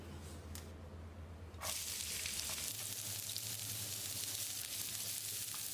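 Steady loud sizzling of finely chopped onions frying in hot oil with fennel seeds, intensifying partway through as more go into the pan, continuous with no talking.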